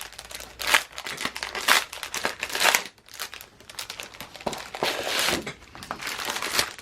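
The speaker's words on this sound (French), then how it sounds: "On va sortir un papier." A sheet of scrapbooking paper is pulled out and handled, giving close, continuous crinkling and rustling in bursts with brief pauses, with no voices.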